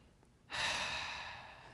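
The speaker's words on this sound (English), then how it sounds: "Then we're going to take that big deep breath." One big, deep breath drawn in sharply and held as a long airy rush, close and fairly loud after a moment of quiet.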